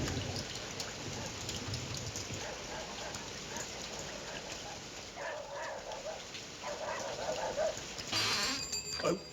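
Steady rain falls in a dense, continuous hiss throughout, with a brief louder burst of splashing near the end and no voices.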